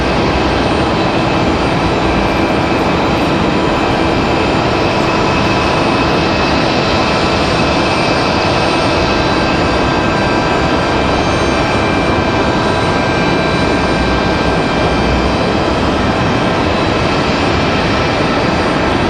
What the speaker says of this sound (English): Delta 3246 again coming in from Atlanta, Georgia.